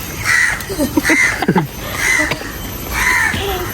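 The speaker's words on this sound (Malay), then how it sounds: "Itu gagak." A crow caws at a zoo in Johor, giving about four harsh, drawn-out calls at a steady pace, fairly close and loud over a noisy background.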